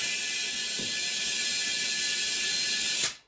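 A loud, continuous hiss of rushing air escaping from a lawn tractor or ATV tire bead at the rim holds steady for about three seconds, then cuts off abruptly.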